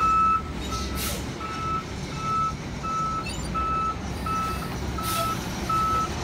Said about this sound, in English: Okay, garbage truck is coming.